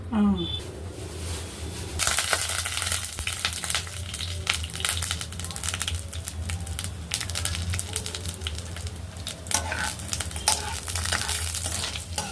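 Dried red chillies, chana dal and urad dal tempering in hot oil for a roti chutney, a crackling, popping sizzle running throughout with stirring noises, while people talk over it.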